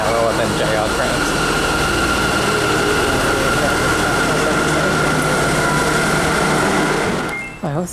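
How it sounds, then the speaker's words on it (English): A Sendai City subway train approaches the station with a steady, loud rumble and hum that holds constant throughout, with no voices heard over it. "I hear a train approaching"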